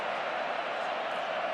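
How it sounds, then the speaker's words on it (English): Football fans cheering inside a stadium at a Barcelona versus Real Madrid Copa del Rey final, a dense, continuous roar of a distant crowd with no single voice standing out. "Once again, the Barca fans cheer ecstatically."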